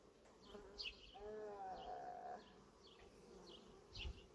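Close, continuous buzzing of many honey bees in an open hive during inspection, with a few individual bees droning past; no voices.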